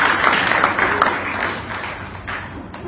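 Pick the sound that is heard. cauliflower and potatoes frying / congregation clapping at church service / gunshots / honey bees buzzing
congregation clapping at church service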